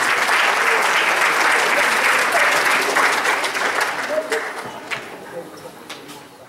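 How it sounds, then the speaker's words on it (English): A crowd at a Republic Day celebration in Bakersfield, California gives a big round of applause, loud and dense at first, then thinning to scattered claps as it fades out. "Give them a big applause."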